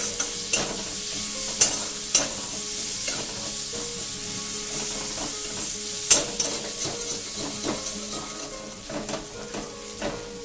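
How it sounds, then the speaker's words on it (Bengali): A large onion sizzles steadily in hot oil for a rui fish kalia, with a spatula scraping and clinking against the pan every few seconds. "পেঁয়াজগুলো ভালোভাবে ভাজা হয়ে গেছে"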